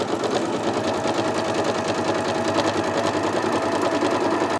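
A sewing machine stitches a quilt-as-you-go fabric join in one continuous, fast, even whir of needle strokes, close and steady, stopping abruptly at the very end.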